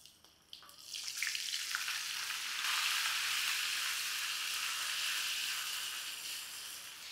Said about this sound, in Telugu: దీన్ని ఇలా మీడియం హాట్ ఆయిల్లో వేసేయండి.